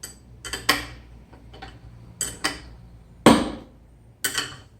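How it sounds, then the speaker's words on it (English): Stand foot sliding down over a metal washer during stand installation, giving a series of sharp pops and ticks in irregular clusters, close and crisp against a quiet background. "The popping's it's slipping down over that metal washer in the foot."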